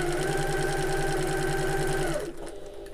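A sewing machine back stitches fabric for a Half-pint Hobo bag in a rapid, steady mechanical chatter that runs loudly for about two seconds, then stops abruptly.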